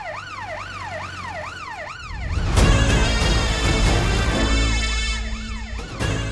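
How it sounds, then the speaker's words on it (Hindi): Rapid warbling emergency siren, loud and continuous, cycling up and down quickly before heavier noise and traffic rumble mask it, then returning near the end. "ये तो पुलिस के सायरन की आवाज है ना।"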